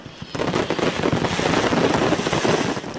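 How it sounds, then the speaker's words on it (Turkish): A stockpile of seized fireworks goes off by accident, erupting after a brief lull into a loud, dense barrage of crackling bursts and pops that carries on without a break. "havai fişeklerin hepsi yanlışlıkla patlayınca olanlar oldu"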